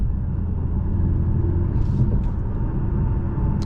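A steady low engine drone with road rumble from inside a moving 2023 Mercedes-AMG C 43 hybrid with a 2-liter four-cylinder engine, constant and fairly loud throughout.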